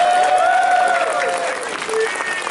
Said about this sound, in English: let's give it a round of applause for Angry Queen money